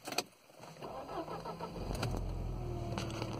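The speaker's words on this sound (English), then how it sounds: "let's start the car" A car with a failing clutch release bearing is started: a quiet pause, then the engine cranks and catches into a steady low idle rumble, close by, with no talk.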